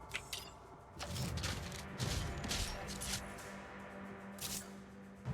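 Gunfire in the video game Destiny, fired against the Fallen, runs as a dense, steady stream of shots and impacts with a few louder bursts near the end, sounding close and continuous throughout.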